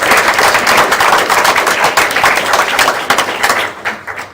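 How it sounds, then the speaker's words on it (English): Applause from an audience at a school board meeting honoring band directors, with dense, sustained clapping from a crowd that stays full for a few seconds, then thins and tapers off toward the end. "So a round of applause for all of our directors"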